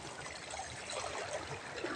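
Waves breaking at a shoreline during shore fishing after a speedboat has passed, a continuous wash of churning water at moderate level with no pauses and no voices.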